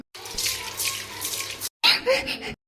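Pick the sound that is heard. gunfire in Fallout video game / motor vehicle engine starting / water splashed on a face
water splashed on a face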